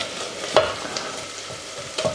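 Onions frying in a pan for a risotto, a soft steady sizzle with a couple of louder scraping stirs near the start and end.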